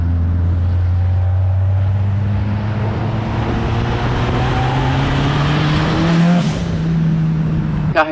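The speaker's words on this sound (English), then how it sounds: "this is my 1974 Datsun 610 Triple S Coupe." A 1974 Datsun 610 Triple S Coupe engine runs steadily and loud for about eight seconds, its low drone rising slowly in pitch, with a brief rev near the end and no voices.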